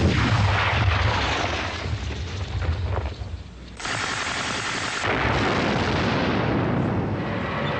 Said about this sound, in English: That's Ben recording ricocheting rifle shots